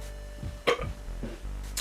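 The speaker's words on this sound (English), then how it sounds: "I'm about to burp." One short, close burp rises out of a steady low background hum, followed by a couple of faint throaty noises.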